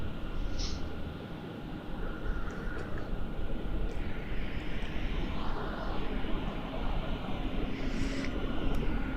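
A Fiji Airways A350 arriving from Nadi at Melbourne Airport gives a faint, distant, steady engine rumble and whoosh that holds evenly throughout, with little else standing out.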